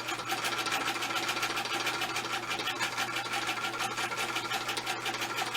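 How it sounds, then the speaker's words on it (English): An old Singer sewing machine stitches through canvas, its needle hammering in a fast, steady, even whir that runs without a break, close and moderately loud. "You always want to hold your thread when you come down with your needle the first stitch, because if not, you can unthread your machine."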